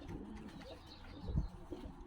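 Racing pigeons coo softly in a breeding loft, a low murmuring coo rising briefly amid faint background rustle, quiet and close.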